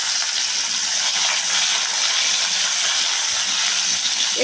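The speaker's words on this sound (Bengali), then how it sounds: "তো ফুলকপিটাকে আমি একটু ভেজে নেব" Cauliflower pieces frying in hot oil for vegetable pulao, a continuous bright hiss of sizzling that holds steady and close throughout, with no voices.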